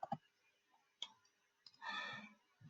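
Quiet keyboard typing at a computer while entering a formula into a spreadsheet in simulation software: a few sparse, isolated clicks, then a short burst of keystrokes, close and faint, with no talking.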